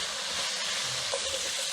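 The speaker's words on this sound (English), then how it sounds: "We're going to saute these for a few minutes." Eggplant and zucchini sauté in a pan for a Yemeni saltah, giving a steady, close sizzle with soft stirring scrapes and no voices.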